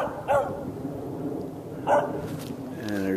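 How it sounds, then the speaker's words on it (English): A dog barks from behind a house beside a flood plain, two distinct barks spaced well apart at moderate distance, with a faint whine near the end and no talking. "And there's a dog that's barking at me."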